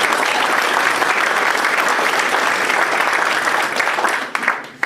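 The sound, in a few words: audience applause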